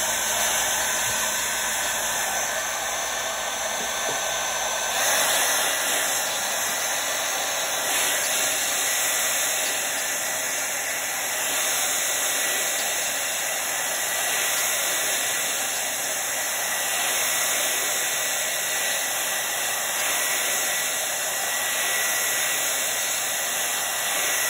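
A heat tool blows steadily over a Chalk Couture chalk transfer for bathroom decor, a loud, even, continuous hairdryer-like whoosh with a high whine, heard alone for the whole stretch.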